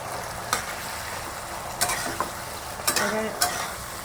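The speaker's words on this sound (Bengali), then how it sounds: "ঢেঁড়সগুলো ভালো করে নেড়ে চেড়ে নিচ্ছি এই তেলের মধ্যে" Okra being stirred and fried in oil, a steady close sizzle with several distinct spatula scrapes and clinks against the pan spaced through the stretch.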